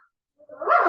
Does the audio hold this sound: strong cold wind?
no